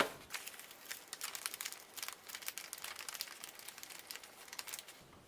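Plastic wrapping of a parcel crinkling and rustling as it is torn open, a steady close crackle of crumpling sounds running throughout without a break, fading near the end.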